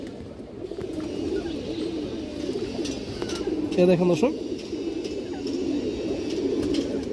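Giribaz pigeons coo softly and repeatedly in a loft, a burst of clearer cooing standing out near the middle, while someone talks over the birds.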